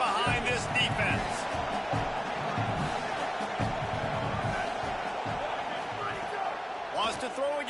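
A stadium crowd in a college football video game roars behind the defense on a big third down, a dense, sustained wash of cheering and whoops beneath a commentator's talk.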